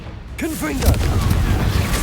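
A Confringo fire spell goes off in the video game Hogwarts Legacy. A voice calls out briefly, then a dense, rumbling blast and crackling debris fill the rest of the sound.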